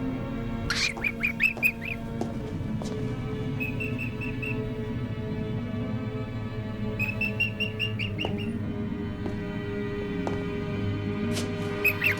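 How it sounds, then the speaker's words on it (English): A pet bird in a palace setting gives repeated chirps and whistled calls in short clusters over a steady low hum, fairly close and clear, with no talking. "I must feed my bird."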